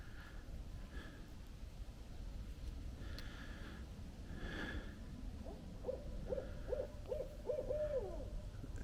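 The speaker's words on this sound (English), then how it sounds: "I cannot believe that I did a barred owl call." A barred owl hoots back after a call, a series of low rhythmic hoots rising near the end, moderately distant and faint against a soft outdoor background hiss.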